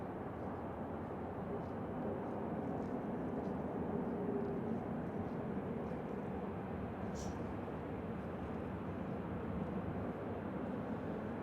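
An Airbus A350 airliner moving onto the runway, heard from a distance as a steady broadband engine rumble that holds level throughout.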